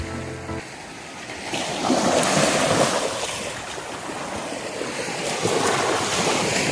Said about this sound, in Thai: ตอนนี้ผมก็มาอยู่ที่ ชายทะเล ชายหาดกุยบุรีนะครับ